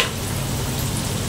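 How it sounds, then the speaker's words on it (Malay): Food frying crisp in a pan of hot oil gives a dense, steady, crackling sizzle, close and even throughout, with no voices. "Kita goreng garing."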